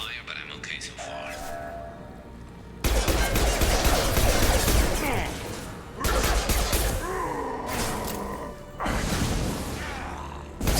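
Bursts of rapid gunfire and crashing impacts in the video game Mass Effect, coming in loud waves during a firefight while a voice talks over the action.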